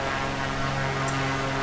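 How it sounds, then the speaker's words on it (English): Steady drone of a Beechcraft Baron twin-engine piston propeller plane cruising in flight, a constant low engine hum with stable harmonic tones filling the cabin, no talking. "So I'm flying today a Beechcraft Baron"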